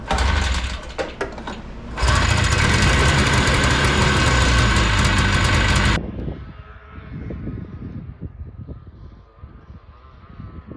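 A Yamaha Enticer snowmobile engine with a freshly cleaned carburetor runs, starting with uneven sputtering, then a loud, steady high-revving buzz for several seconds before dropping to a quieter, rough idle.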